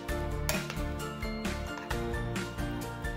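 A spoon stirs potato and onion raita with tomato, coriander and green chili in a bowl, quiet repeated clinks and scrapes in a steady rhythm under faint background music.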